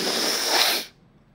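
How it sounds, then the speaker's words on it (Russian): A single close, loud sneeze bursts out as a breathy, spray-like rush lasting almost a second, then cuts off abruptly into near silence. "А я сейчас чихну."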